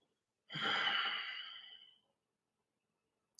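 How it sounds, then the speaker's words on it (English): One deep, slow breath taken during a guided relaxation breathing exercise, close and soft. It lasts about a second and a half and is followed by silence. "So start your breathing pattern."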